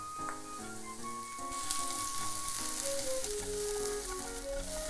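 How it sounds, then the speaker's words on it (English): Garlic and scallion sizzle in olive oil in a frying pan, a steady close crackling hiss that runs throughout under a background of music, with no talking. "Once you start hearing the sizzling sound of the garlic, I'm going to put in the bottom part of the scallion."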